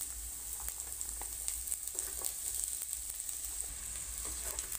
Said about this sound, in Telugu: ఇందులో నేను కొంచెం వెల్లుల్లి రెబ్బలు, ఉల్లిపాయ ముక్కలు వేసి ఫ్రై చేస్తున్నానండి